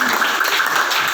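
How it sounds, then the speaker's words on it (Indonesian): A classroom group gives a short burst of applause, dense, even clapping filling the brief moment without a break, fairly loud and close. "Tepuk tangan."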